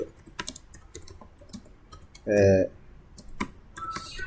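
Keys clatter on a computer keyboard as network switch commands are entered, irregular clicks and short bursts of typing running throughout with one louder sustained noise in the middle.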